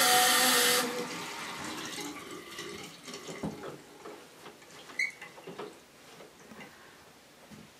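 Water runs from a tap as hands are washed under it, starting with a loud rushing burst and settling into softer, uneven splashing and patter.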